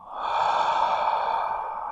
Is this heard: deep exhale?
yes